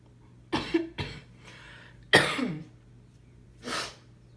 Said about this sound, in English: Excuse me for the cough.